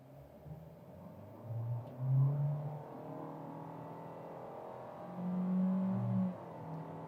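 A car, either a Volkswagen Virtus 170 TSI automatic or a Fiat Cronos Precision CVT, accelerates normally with the air conditioning on and sport mode off. The engine hum swells in two moderate surges, fairly quiet and heard from inside the cabin.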